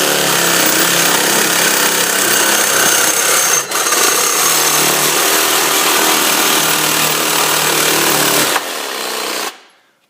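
A loud, continuous power tool whines and grinds for several seconds cutting parts to raise a Weber 22-inch kettle grill, briefly dipping once, then winds down and stops near the end.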